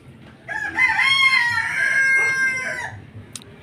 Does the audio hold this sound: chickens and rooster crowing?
yes